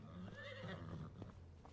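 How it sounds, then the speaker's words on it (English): Horses on a farm: one whinnies with a rising, wavering neigh, followed by a few soft hoof-like knocks, all at low volume. "Look at all the horses."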